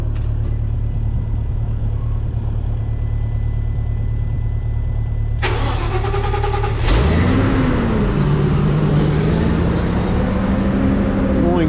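Engine of a Bandit wood chipper cranking over and catching, rising from a steady idle-like hum into a loud starter whine and then a revving run close by.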